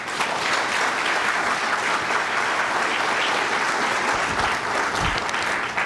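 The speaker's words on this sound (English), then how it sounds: "So give yourselves one more round of applause." Steady, dense applause from a large audience at a city's State of the City address, loud and sustained throughout with no pauses.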